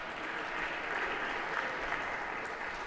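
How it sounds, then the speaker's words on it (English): An audience claps for six volunteers called up on stage at a Harvard CS50 lecture, a dense, steady round of applause that holds at an even level throughout the short stretch. "a round of applause for these 6 here volunteers"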